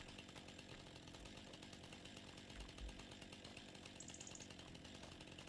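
A chainsaw cuts trees in Farming Simulator 25, giving a steady, faint, distant-sounding drone that runs unbroken with no talk over it.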